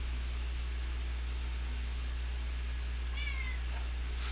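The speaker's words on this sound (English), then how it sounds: "there's my kitty cat at the door" A cat meows once at a door, faint and brief, against a steady hiss of background noise.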